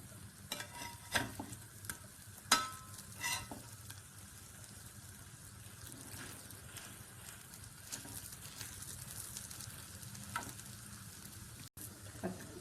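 A vegetable cutlet frying in oil in a pan, a quiet, steady sizzle with occasional sharper pops and a few light scraping touches.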